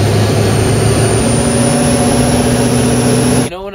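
Monstermax 2, a vehicle running on twin engines, gives a loud, steady, droning engine roar that holds constant before cutting off abruptly near the end.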